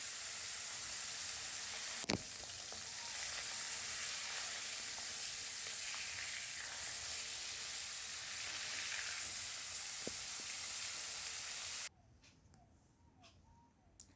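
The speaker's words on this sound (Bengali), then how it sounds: "এবার মাছটা আমি ভেজে নেব তেলাপিয়া মাছ তো হালকা করে ভাজবো ডিপ ফ্রাই করবো না" Tilapia fish shallow frying in a pan of oil gives a steady, loud hiss and crackle for most of the time with a sharp pop near the start, then cuts to a much quieter background near the end.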